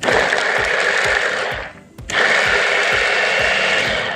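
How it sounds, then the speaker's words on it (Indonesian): An electric blender chops peeled garlic cloves for meatball broth, running loud and steady with a rhythmic chopping pulse, briefly pausing midway before whirring back up at full power. "kemudian Bang Ben blender"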